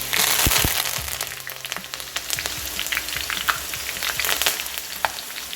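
Green chillies and curry leaves fry in hot oil with a loud, dense, continuous crackling sizzle and scattered sharp pops, close up with no voices.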